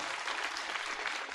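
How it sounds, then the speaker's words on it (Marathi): Kirtan audience clapping hard, a brief dense burst of applause from a gathered crowd at a devotional kirtan festival, steady and fairly distant. "परत एकदा जोरात टाळी वाजवा महाराज"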